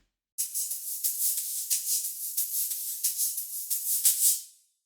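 A bright, airy shaker-like rattle made from processed stomps on dry leaves, with the lows EQ'd out, plays in a quick, uneven rhythm. It is hissy and high-pitched with no low end, then fades out.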